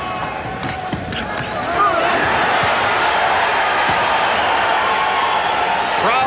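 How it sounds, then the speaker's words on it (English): Boxing arena crowd at Larry Holmes vs Carl Williams roars in a sustained, swelling reaction to a punch combination, with scattered thuds and cheers building loudly after a quieter start. "Crowd reacting to the combination."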